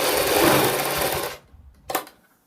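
A sewing machine runs a fast continuous stitch along a kurti neck seam for over a second, stops abruptly, then gives one brief short burst before falling silent.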